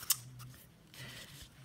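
Scissors snipping through a cardboard toilet paper roll, one sharp close cut near the start followed by faint rustling and handling, quiet overall with no talking.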